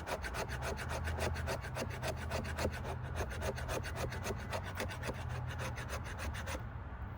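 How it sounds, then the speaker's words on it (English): The spine of a fixed-blade knife, worked from its jimping, scrapes fatwood in a fast, steady rhythm of close rasping strokes that stops just before the end. "it is scraping, look at that."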